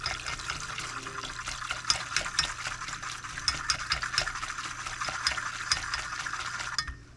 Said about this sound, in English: let me give this a good mixy mix